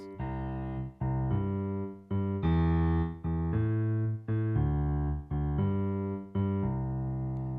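A piano plays a repeating low left-hand pattern, each new note preceded by a quick repeated pickup note, in a steady, moderate rhythm.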